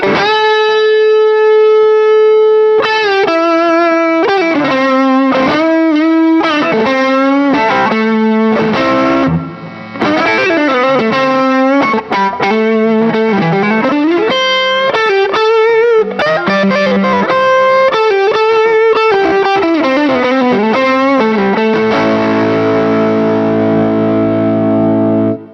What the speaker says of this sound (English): So with the Strat running that, it sounds something like this.